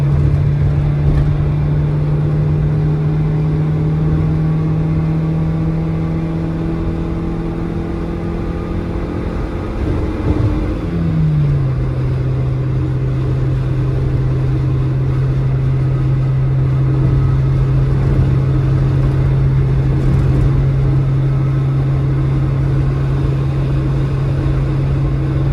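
A stock Type 2 Honda City VTEC engine drones steadily from inside the cabin under throttle, its tone shifting briefly around a downshift midway before settling into a constant hum, without talking.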